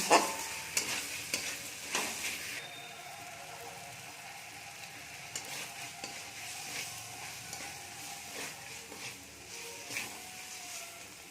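Ground turmeric sizzling and frying with potatoes in a pan for a paneer curry, stirred steadily with a utensil scraping against the pan; a continuous hiss under repeated scraping strokes, close and moderately loud, with no talking.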